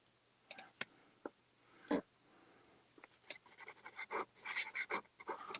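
A Swan fountain pen nib scratches across paper in a few short, faint strokes with pauses, followed by a denser run of quick scribbling marks, close by and quiet.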